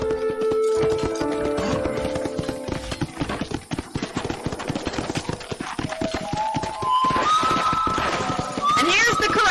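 Rhythmic horse hoofbeats in Red Dead Redemption clip-clop steadily alongside game music, with a voice talking over them.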